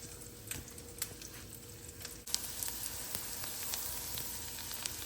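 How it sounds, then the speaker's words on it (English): Butter sizzles in a frying pan on a stove, a soft continuous crackle that steps up louder midway through. Quiet popping ticks dot the sizzle, and no one speaks. "And that's just butter in the pan."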